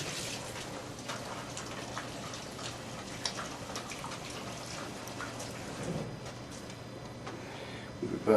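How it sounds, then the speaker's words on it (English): Tap water runs in a steady, soft hiss while hands are rinsed in a kitchen during lasagna preparation, faint and continuous, with a brief clatter near the end. "This out of the way, rinsing my hands."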